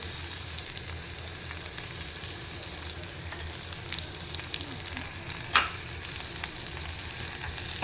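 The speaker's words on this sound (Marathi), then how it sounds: "गॅस स्लो केला मी. कांदा परतवून घेते." Onion sautéing in a pan on a gas stove turned low, a steady gentle sizzle with faint stirring scrapes and one brief sharp clink near the end.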